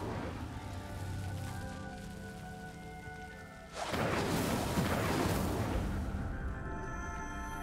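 A fire spell is cast in Hogwarts Legacy, setting off a sudden roaring, crackling burst of flame. It swells loudly out of a quieter ambient game background with sustained musical tones, then gradually settles.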